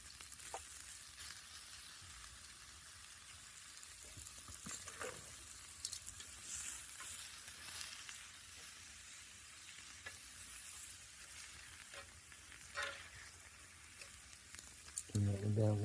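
A stir fry with barbecue sauce sizzles steadily in a pan at a campsite, a soft continuous hiss with occasional scrapes and clinks of a utensil, fairly quiet and with no speech.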